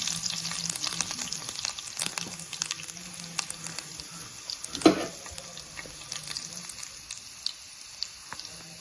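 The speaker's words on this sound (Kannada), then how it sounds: "ಕಲರ್ ಚೇಂಜ್ ಆಗೋವರೆಗೂ ಫ್ರೈ ಮಾಡಬೇಕು." Garlic frying in a pan of oil for a mixed-greens saaru, a steady soft sizzle with faint stirring and one sharp clatter near the middle, no voices.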